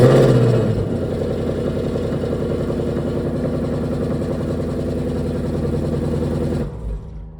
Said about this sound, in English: So I'm gonna fire it up right now in quiet mode.